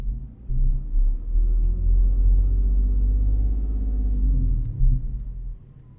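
A car engine revs as the gas pedal is pressed, a loud close low rumble that swells and holds steady for several seconds before easing off at the end.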